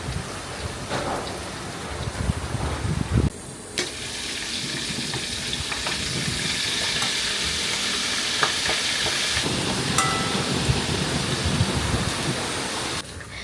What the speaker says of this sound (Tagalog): Ito na yung piniprito natin ngayon.